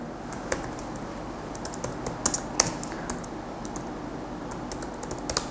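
Keys clack on a computer keyboard while Java code is typed, a quiet, irregular run of light taps with a few sharper strokes, close and alone with no talk.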